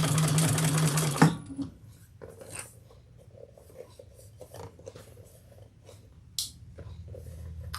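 A sewing machine stitches a seam on a bucket bag in a fast, steady whir lasting just over a second, followed by quieter handling and rubbing of fabric.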